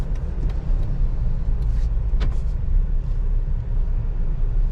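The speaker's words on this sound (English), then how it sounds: "now I'm gonna bring this Explorer up to the front and we can see how it drives" A 2021 Ford Explorer Timberline is driving, giving a steady low road and engine rumble heard from inside the cabin, with a few faint clicks and small knocks over the continuous drone.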